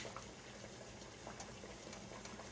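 Water boiling in a pot on the stove for canning fig preserves, a faint steady bubbling hiss with small irregular pops, low and continuous with no talk.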